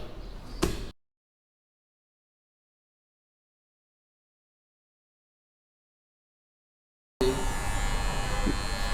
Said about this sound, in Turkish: İlk önce büyük makineyle sıfıra attım.